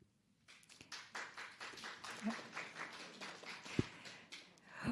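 An audience at a Sarasota school board candidate forum gives brief, scattered clapping at moderate distance, with a few sharper individual claps standing out.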